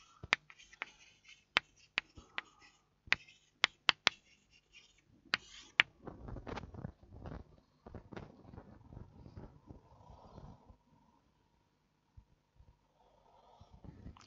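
Pen or chalk writing out physics sign conventions for ray optics, a run of sharp taps and strokes followed by scratchy scribbling, close and fairly quiet, with no voice.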